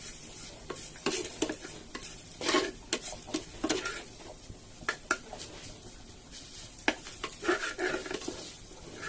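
Chopped tomato sizzles softly in a hot pan while a utensil scrapes and clinks against the metal in irregular stirring strokes, close and fairly quiet.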